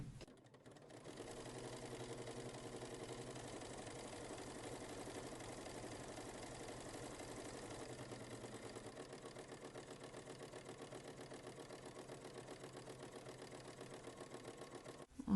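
A sewing machine fitted with a knit presser foot stitches a bartack seam on stretch fabric, giving a steady, continuous mechanical whir at close range for about fifteen seconds with no talking.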